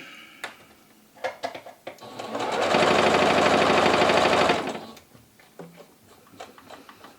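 A sewing machine runs steadily for about two seconds while stitching quilt pieces for a Bargello quilt, with scattered handling clicks and taps before and after the run.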